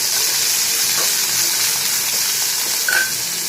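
Ivy gourd pieces fry with popping mustard seeds in a hot pan, a steady close sizzling hiss with faint scraping and a small clink near the end.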